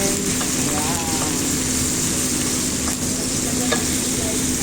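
Leftover marinade hisses and sizzles loudly in a pan of frying beef steak, a dense, constant crackle with faint scraping strokes heard close up.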